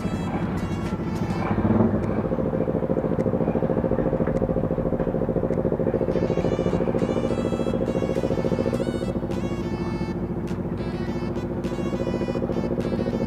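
A heavily loaded motorcycle on a rough route toward Santiago Island in Bolinao, Pangasinan, runs with a steady, loud engine drone that holds throughout, with a brief bump near the start and faint clatter later.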